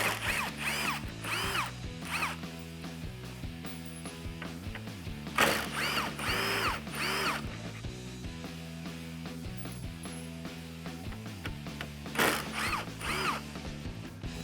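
A 10 mm ratchet removing grille bolts on a 2019-2020 RAM 1500, rapid clicking pawl bursts repeated several times, close and distinct, separated by short pauses.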